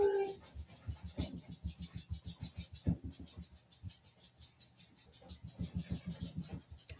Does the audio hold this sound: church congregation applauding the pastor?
no